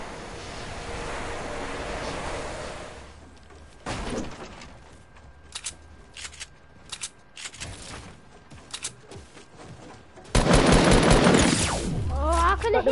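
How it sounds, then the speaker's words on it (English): Bursts of video game gunfire crack out in short clusters, broken by quieter gaps, before a loud, dense stretch of shooting near the end, with a player talking at times. "Shots with a burst."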